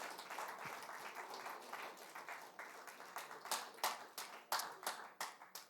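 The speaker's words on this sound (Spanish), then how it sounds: "Denle un aplauso al Señor." A church congregation applauds the Lord, a soft, fairly distant patter of many hands that turns into sharper, more distinct claps toward the end.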